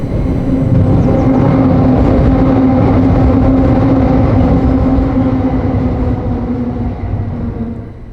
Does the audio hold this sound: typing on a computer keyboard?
no